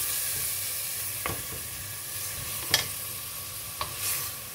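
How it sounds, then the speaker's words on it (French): Meat frying in a pan with sweet pepper: a steady soft sizzle runs throughout, broken by a few brief scraping stirs of the utensil, close and fairly quiet. "on va laisser cuire comme ça un peu griller la viande"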